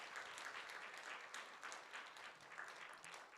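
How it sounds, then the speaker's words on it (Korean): A church congregation applauds at an evening revival service, a steady wash of clapping that holds even and fairly distant for the whole stretch, with no talk over it. "우리 박수 하나 하도록 하겠습니다."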